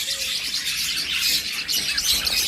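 Budgerigars, forpus parrotlets and lovebirds aged six to eight months chirp continuously, a dense, steady chatter of many birds close by in an aviary, with no talk over it.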